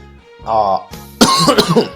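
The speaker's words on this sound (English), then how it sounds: "Sorry about the coughing" A few harsh, throaty coughs close to the mic, starting with a short throat-clear and then a loud burst of rough hacking.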